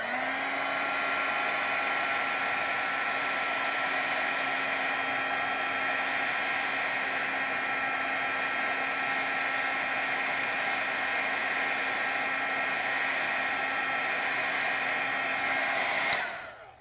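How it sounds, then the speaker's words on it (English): A heat gun blows a steady, loud whooshing hum, unbroken for about sixteen seconds before it switches off and winds down. "Heat gun."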